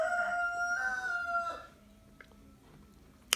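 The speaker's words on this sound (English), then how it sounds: "my mom's chickens are so embarrassing. Why are they making noise?" Backyard chickens crow and cluck: a rooster's drawn-out crowing calls fill the first half, then fade to scattered faint clucks, with one sharp brief noise near the end.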